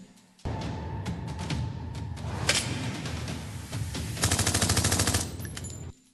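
Rapid automatic gunfire in a dubbed action movie, loud and close, with sustained bursts, a sharper volley partway through and a final dense rattle before cutting off.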